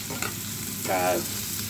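Continuous sizzle of onions frying in a pan, with a short stirring scrape partway through; no one speaks.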